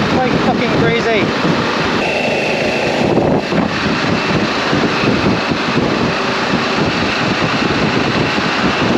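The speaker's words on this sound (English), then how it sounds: "the crosswinds are horrendous" Strong crosswind buffets a vehicle on a hilltop motorway along the E4, a loud, steady broadband roar that never lets up while voices talk over it.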